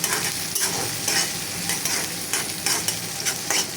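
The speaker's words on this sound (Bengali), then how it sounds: "আর সরিষা তেলের জন্য এরকম বাবল উঠছে" Whole spices and onions frying in hot, bubbling mustard oil, a loud, steady crackling sizzle right up close with rhythmic stirring scrapes over it and no voices.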